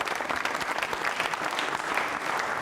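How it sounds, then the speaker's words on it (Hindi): Steady, enthusiastic applause from a crowd at a quiz show for trainee state civil services officers, dense clapping filling the whole stretch with no voices on top. "डॉक्टर सामरिया साहब के लिए तालियां जोरदार बजाई कृष्णा जी के लिए"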